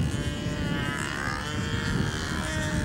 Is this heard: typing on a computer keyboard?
no